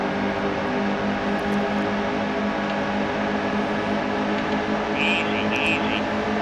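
Race trucks roaring around Daytona in the NASCAR Heat 2 game, a continuous dense engine drone with little variation, while a voice talks over it.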